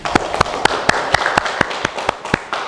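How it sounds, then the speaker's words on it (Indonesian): A classroom gives a short round of applause for a group that just finished its presentation, with sparse, distinct claps repeating at a steady pace, fairly close and alone. "Kita berikan aplaus untuk kelompok 1 yang sudah melakukan presentasi."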